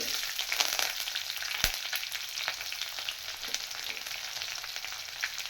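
Small and large onions sauté with curry leaves and garlic in a pan, a soft, steady sizzle close by with scattered crackles, one sharp knock and occasional stirring scrapes.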